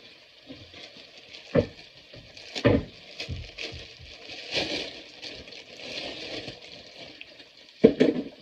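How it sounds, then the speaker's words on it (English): Tap water running while food is rinsed in a kitchen sink before sautéing eggplant with tomatoes, a soft continuous hiss broken by several louder splashing knocks and clatters, close by with no talk. "one final rinse"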